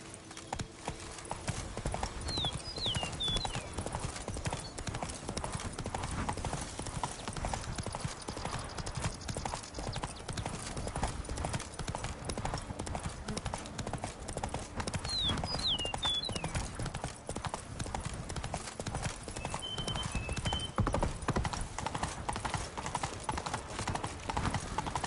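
Roach, the horse in The Witcher 3, gallops in a steady, rapid drumming of hooves that runs unbroken and fairly close, with faint bird-like chirps over the top.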